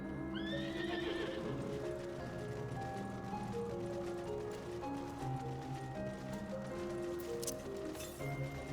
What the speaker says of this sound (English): Onto Argos' back and we can be off.